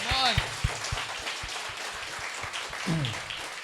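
Audience in a church gathering breaks into scattered clapping, a few sharp claps standing out over a steady patter, with a voice speaking over it near the end.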